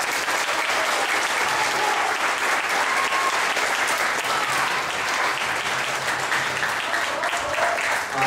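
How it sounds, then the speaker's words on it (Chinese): A church audience at a music testimony concert by a Canadian choir claps for the worship leaders, sustained dense applause from a large crowd that stays loud and even throughout. "我们再一次用掌声谢谢他们来带领敬拜"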